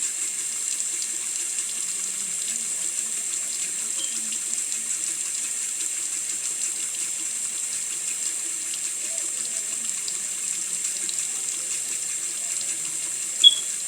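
Steady tap water runs and splashes into a sink during handwashing, a constant hiss that holds evenly throughout with faint softer sounds underneath.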